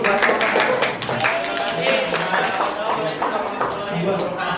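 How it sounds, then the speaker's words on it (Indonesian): A classroom of students claps for a student group in a lesson, a dense spread of hand claps running the whole time while voices talk over it. "tepuk tangan dulu buat kelompok"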